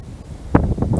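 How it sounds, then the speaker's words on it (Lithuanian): Strong wind blowing across a lake during a fishing trip at Liepāja, a brief rough buffeting rumble against the microphone that grows louder in gusts toward the end. "Vėjas pučia čia bele koks."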